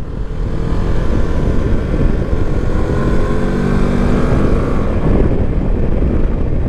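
A 2024 CFMoto 700MT motorcycle out on a first ride, its engine a loud, steady drone close to the rider, with wind rush blended in and a slight shift in tone near the end.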